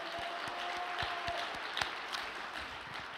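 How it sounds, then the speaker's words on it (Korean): Audience applause at a volunteer group's report meeting, a steady wash of many hands clapping at moderate volume for a few seconds, with a faint tone and scattered sharper claps. "전유상 국장님께 다시 한번 감사의 큰 박수를"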